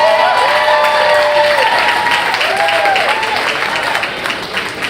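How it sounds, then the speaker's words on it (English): A live stage audience breaks into loud, sustained applause with rising whoops and cheers mixed in, the clapping easing slightly toward the end. "Another big round of applause for Asmund, come on!"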